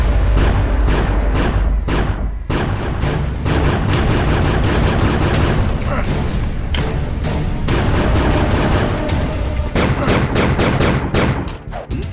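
Gunfire in the 2017 indie video game The Resistance, dense loud bursts of shots and booming blasts crowding together almost continuously.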